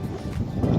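Outdoor wind buffets the microphone in a loud, low, continuous rumble that swells slightly toward the end.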